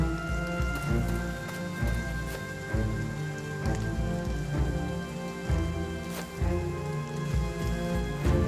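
Steady rain in the background of the video game Battle Brothers, a soft continuous patter at low level under faint game music, with no talking heard.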